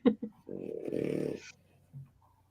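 A dog snores close up, a few short snorts then one long rasping breath, with a softer snuffle afterward.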